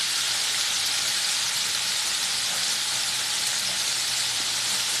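Chicken livers deep frying in hot grease in a home kitchen, a loud, continuous sizzling hiss that stays steady and close with no talking.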